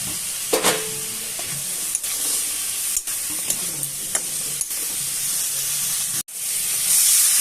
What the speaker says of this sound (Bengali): এবার বেগুন আলু ভাজাটা দিয়ে দিলাম।